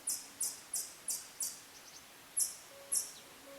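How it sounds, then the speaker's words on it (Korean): Outdoors on a chilly autumn morning, a small bird gives a run of short, bright chirps in a regular rhythm, several quick notes with brief pauses, fairly faint against a quiet background. "이게 무슨 새소리인지는 이런 걸 잘 모릅니다"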